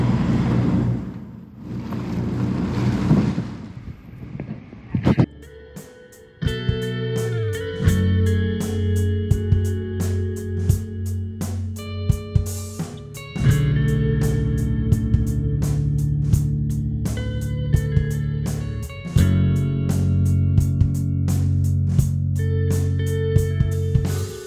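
Sailboat motoring offshore under engine in calm, windless ocean, a steady droning engine hum with tonal whine layered over low rumble and faint water and wind noise, loud and continuous after a brief quieter start.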